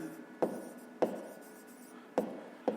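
Pen writing by hand on paper for a fifth-grade math exercise: four short, sharp scratchy strokes, each trailing off into a faint scribble. Heard up close and quiet, with no voices.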